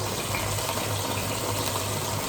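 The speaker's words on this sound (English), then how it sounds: "What I like to do is pour this mixture straight on top of the meat." Thick chilli con carne mixture poured from a pan straight on top of meat, a steady close wet gushing pour that keeps going for the whole couple of seconds with no voices.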